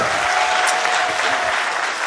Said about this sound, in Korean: 지금 박수